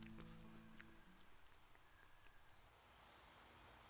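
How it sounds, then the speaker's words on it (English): Grasshoppers chirp in a dense mating chorus, a steady high shimmering buzz with soft pulsing that fills the whole stretch at a moderate, even level, with no voices present. "Grasshoppers fill the air with their mating chorus."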